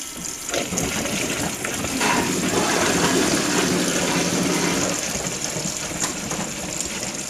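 Water drains out of a Brandt 532 Super washing machine, a broad sustained gushing rush that swells slightly in the middle and then settles, loud and steady, with no voices.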